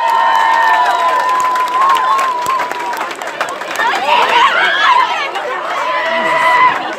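A crowd at a presentation to the Kiely family claps and cheers, with lively chatter, shouts and voices mixed through the noise, rising again toward the end.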